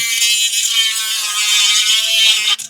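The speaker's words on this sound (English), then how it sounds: "you want this edge sanded down" A rotary tool sands an edge on PETG filament part, a loud, close, high-pitched steady whir with slight wavering as it grinds, cutting off abruptly at the end.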